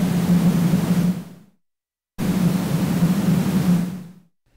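A Eurorack percussion module fed straight from a gate input gives two long, noisy hissing bursts with a low hum underneath, each lasting over a second before fading out, separated by a short silence.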